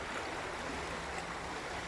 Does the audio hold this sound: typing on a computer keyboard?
no